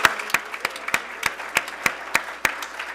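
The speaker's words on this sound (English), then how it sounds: "How about a nice round of applause for Mr." Sparse applause at a baseball press conference: a small audience claps in distinct, fairly regular loud claps about three per second, fairly close, with no talk over it.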